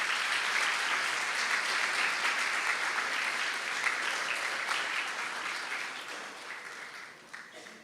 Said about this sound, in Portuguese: eu queria que batesse uma salva de palmas para ele